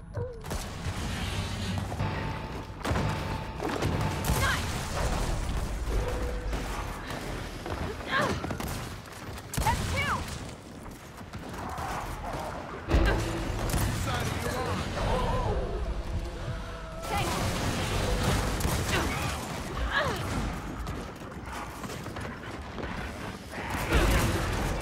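Gunfire and combat from the video game Gears of War 4 sound in dense, continuous mechanical bursts and clattering impacts, loud and busy throughout, with occasional voices underneath.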